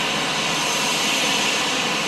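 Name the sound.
Cebu Pacific passenger plane coming in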